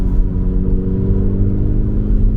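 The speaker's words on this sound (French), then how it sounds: "on peut faire des petits rétrogradages." A 2022 Volkswagen Polo GTI downshifts, its engine giving a loud, low rumbling rev heard from inside the car, steady and alone without talk.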